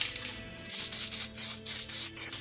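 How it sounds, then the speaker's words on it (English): Bursts of aerosol spray paint hiss on and off in short passes over a guitar body, close by, with a faint steady hum underneath. "then we move over and we spray paint the back and the front"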